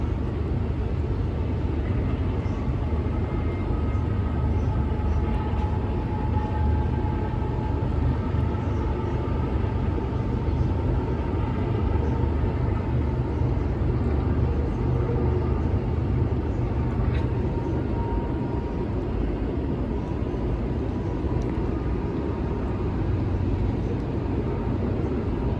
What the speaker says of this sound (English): Our next train of the day was CSX I-138, daily stacks out of Chicago, Illinois, for Penn Mary Yard in Baltimore, Maryland.